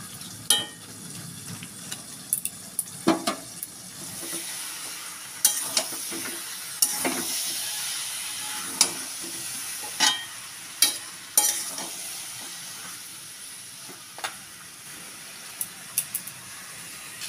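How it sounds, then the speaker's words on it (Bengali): Potatoes fry in a pan for a katla fish curry, a steady soft sizzle broken by repeated scraping stirs of a utensil, close and fairly quiet. "এবার আমি আলুগুলো দিয়ে দেবো। দিয়ে ভালো করে মিশিয়ে দেবো।"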